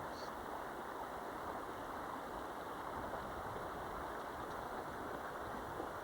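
A small creek runs steadily and quietly, a continuous, even wash of flowing water with no breaks.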